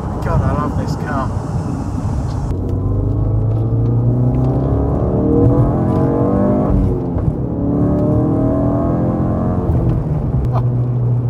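A 455bhp Ford Focus Mk3 RS engine pulls hard on a road test, loud and close, its rising then falling harmonic drone climbing through the gears with brief shifts between surges and steady road roar beneath.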